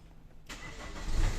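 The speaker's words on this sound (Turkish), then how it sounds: "Aracımız marş emrini alıyor." Car engine cranking and catching after a remote start-stop module triggers it, a sudden burst of engine noise that settles into a rising idle rumble, close by with no voices.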